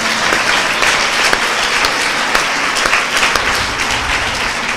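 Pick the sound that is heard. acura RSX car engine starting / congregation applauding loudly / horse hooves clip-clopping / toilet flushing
congregation applauding loudly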